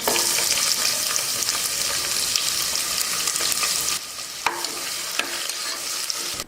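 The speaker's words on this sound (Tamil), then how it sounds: "வெங்காயம் கூட இஞ்சி பூண்டு பேஸ்ட்டும் சேர்த்து வதக்கியாச்சு" Onions and ginger-garlic paste sauté in a pan with whole spices, curry leaves and fennel, a steady close sizzle with frequent stirring scrapes, easing slightly partway through, with no voices.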